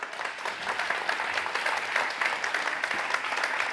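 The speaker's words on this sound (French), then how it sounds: "je vous laisse l'applaudir" An audience at an eco-activities award ceremony applauds a speaker coming to the stage: steady crowd clapping, moderately loud and sustained throughout, with no voices over it.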